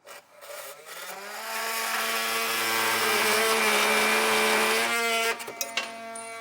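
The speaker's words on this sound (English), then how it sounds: "I have a multi-tool cutter, so I'm just going to trim these off and out of the way" A multi-tool cutter trimming metal tabs while fitting a trailer hitch receiver to a 2025 Genesis GV80, a close harsh buzzing grind that rises, holds steady for several seconds, then cuts off with a few clicks.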